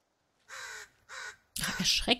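A crow in the survival video game The Forest caws twice in short harsh bursts, followed by a person exclaiming loudly up close.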